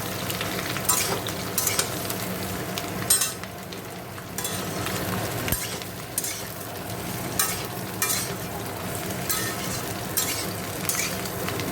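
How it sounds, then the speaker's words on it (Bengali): Chopped vegetables with onion, salt and turmeric fry in a pan with a steady close sizzle, and a utensil scrapes and stirs at intervals throughout. "দেখো ভালো করে ভাজা ভাজা করে নেবো।"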